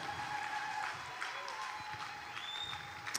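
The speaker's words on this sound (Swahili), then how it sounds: "Pigia Yesu makofi tena na vigelegele." A church congregation claps in a steady crowd applause with high ululating trills rising above it, fairly distant and moderately loud, with voices mixed in.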